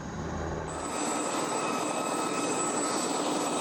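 A Cougar military troop-transport helicopter flies with a steady, loud, unbroken turbine roar and a thin high whine, sustained at close range with no speech.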